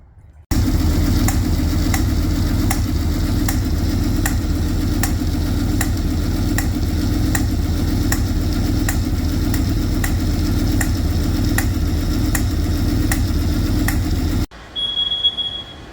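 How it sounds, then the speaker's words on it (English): A Ford Anglia street rod engine runs steadily on a newly fitted carburetor, a loud continuous low rumble with faint rhythmic ticking that holds for about fourteen seconds before cutting off abruptly. "we're going to start it up with the new carburetor and see what happens"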